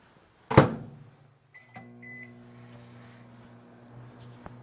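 A microwave oven melting candy bark ingredients: a door thud, a couple of short beeps, then the steady low hum of the oven running, fairly quiet and close.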